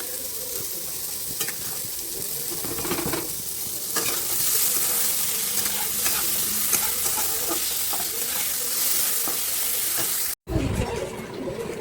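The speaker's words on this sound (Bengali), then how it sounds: "আলু ভাজা বসিয়ে দিয়েছি, আর এই আমার চানা ফুটছে" Potatoes frying in a pan beside a pot of boiling chickpeas give a steady, loud, close sizzling hiss, with a short break near the end before it resumes.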